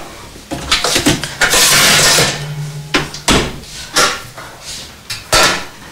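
A metal oven tray being pulled out of a kitchen oven, heard close as a series of loud clattering scrapes and knocks, including one long sliding scrape, with no talking.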